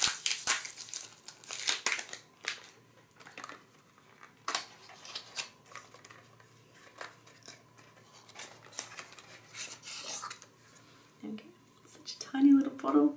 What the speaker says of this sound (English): So I'll just unwrap the perfume.